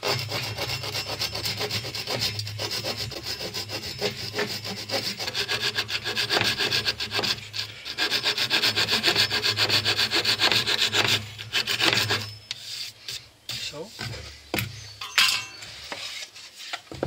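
A handsaw cuts through wood while a workbench is being built, giving close, loud rhythmic rasping strokes back and forth, then a few scattered sharper scrapes and knocks as the cut ends.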